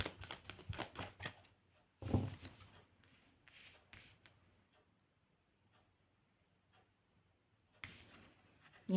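Tarot cards being shuffled by hand, a quick series of crisp riffling flicks at close range, then a softer handling burst, a near-silent pause and a final shuffle at the end.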